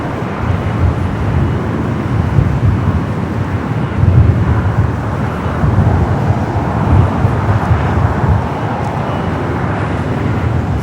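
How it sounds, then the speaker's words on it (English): A Virgin Atlantic Airbus A350-1000 departing LAX for London Heathrow, a loud, sustained broadband jet roar rumbling strongly in the low end and swelling and easing slightly over several seconds. "we do a Virgin Flight 8. Heading back to London Heathrow"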